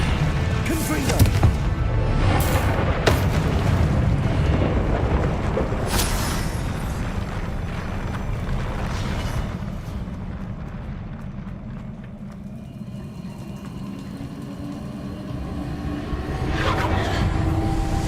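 Repeated blasting-spell explosions in Hogwarts Legacy, booming hits and rumbling impacts loud and near, clustered early and again at the end with a lower rumbling stretch between, set against ongoing game noise.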